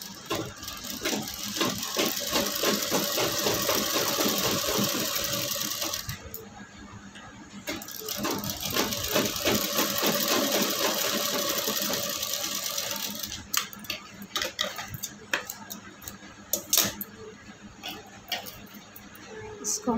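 A sewing machine stitches a blouse strip onto lining fabric in rapid, rattling runs, pausing briefly between bursts before starting again, with some faint ticking as it stops.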